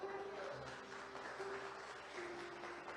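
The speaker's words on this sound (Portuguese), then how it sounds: "Dá um aplauso para Jesus por isso." Faint applause from a church congregation during a Portuguese-language sermon by Pastor Laércio, a soft, diffuse patter of many hands clapping at a distance, accompanied by a quiet sustained tone.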